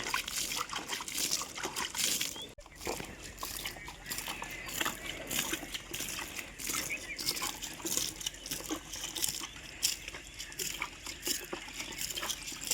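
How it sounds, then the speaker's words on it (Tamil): Steady trickling and splashing of water sprinkled on spinach plants outdoors, continuous and fairly soft, with faint background noise. "கீரைக்கு தண்ணி தெளிச்சிட்டு இருக்காங்க."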